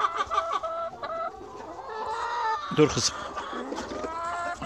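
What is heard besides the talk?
hens clucking in the coop while eggs are collected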